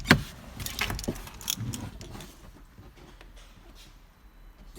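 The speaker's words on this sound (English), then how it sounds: "it has 2 keys" Car keys for an Audi TT jingle and clink in a few close metallic shakes during the first couple of seconds, then fade into quiet room noise.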